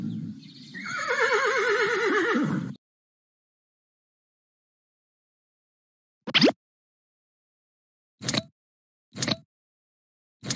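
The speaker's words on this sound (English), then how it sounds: "Horse." A horse neighs once in a long, clear whinny as part of an animal puzzle toy, followed by silence and then a few short, sharp clicks or taps.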